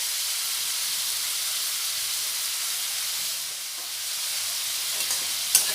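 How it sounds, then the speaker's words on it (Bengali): Steady, even sizzle of potatoes frying in a pan for a banana flower dish, a continuous hiss with a small clink near the end. "এবারে আলুটা খুব ভালোভাবে ভেজে নেব।"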